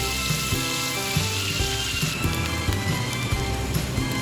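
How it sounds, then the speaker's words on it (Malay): Shallots and garlic sizzling and frying in oil in a wok for kuey teow goreng kicap, a steady close crackle and hiss with occasional stirring scrapes throughout. "masukkan bawang merah dan bawang putih yang telah siap dipecah tadi dan tumis"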